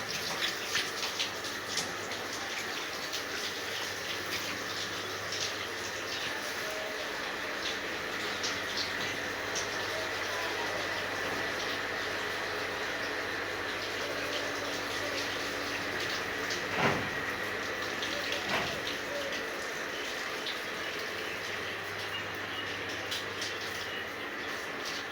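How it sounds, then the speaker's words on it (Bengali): Water from a motor-driven pipe sprays onto the roof of a village house on a hot day, a steady, even hiss that runs without a break over a faint low hum. "আমরা ঘরের চাল পাইপ দিয়ে মোটর দিয়ে ভিজিয়ে দিচ্ছি ঘরটা ঠান্ডা রাখার জন্য"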